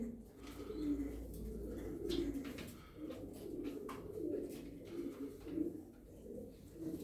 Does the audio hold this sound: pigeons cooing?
yes